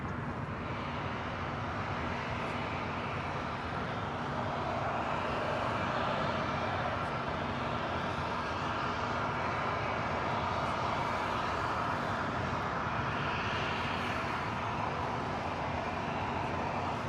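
An airliner takes off from runway 25 right at LAX, its engines a steady broadband roar that swells slightly and holds for the whole stretch, distant and continuous, with faint road traffic mixed underneath.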